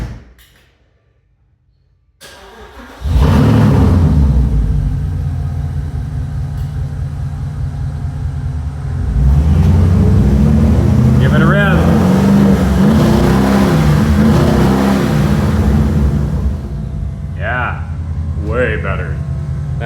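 A one-owner 2008 Porsche Cayenne Turbo with its muffler removed fires up after a short quiet pause, settling into a loud, raw, rumbling idle with a blip of revs midway, and voices talk briefly near the end.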